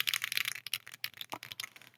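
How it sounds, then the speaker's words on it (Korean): Someone types on a computer keyboard in an office, producing quick, fairly quiet clicking keystrokes in an uneven rhythm with no talking. "이번엔 키보드를 치면서 말을 해볼게요."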